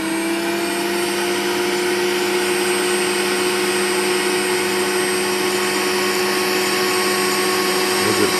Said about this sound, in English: I put the vacuum a little bit more.